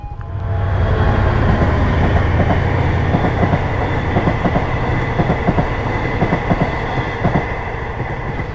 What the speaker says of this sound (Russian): Вот сейчас пойдет поезд.